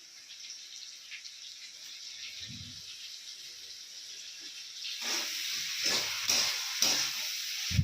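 Chopped tomatoes dropped into hot oil in a pan with spices, a quiet background hiss that swells into a louder, crackling sizzle partway through.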